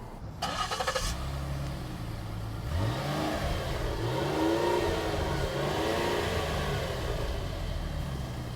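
A Ford Taurus engine revs up and accelerates in a straight line, pitch climbing through several gear shifts, loud and steady from start to finish.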